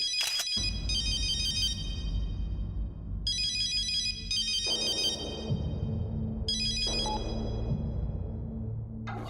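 A mobile phone ringtone plays a repeating bright electronic melody in bursts over several seconds, moderately loud over a steady low background hum, with no talking.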